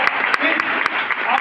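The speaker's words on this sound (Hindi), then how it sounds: "एक बार जोरदार ताली" Loud audience applause at a network-marketing seminar in Chhattisgarh, a dense wash of clapping with sharp individual claps standing out, close and continuous across the short stretch.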